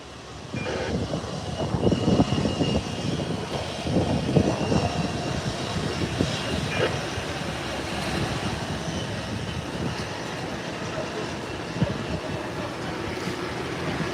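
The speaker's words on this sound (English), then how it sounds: "There is JetBlue slowly taxiing down" A JetBlue airliner taxis slowly toward the runway for departure, its engines a steady, fairly distant rumble and whine, with wind noise layered over it.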